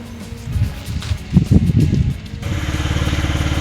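A motorcycle engine starts up for a ride from Puri, rough low rumbling and revving close by, then settling into a steady, rhythmic idle with wind noise.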